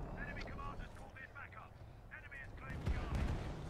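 Deep booming explosions and gunfire-like rumbles from a space battle in Elite Dangerous, rising louder toward the end, with faint voices and tonal game sounds layered in.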